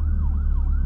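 An ambulance siren wails with a rising and falling tone, loud and close, heard briefly on its own over low traffic rumble.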